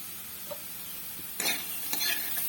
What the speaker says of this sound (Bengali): দিয়ে এটিকে আবারও নেড়ে নেব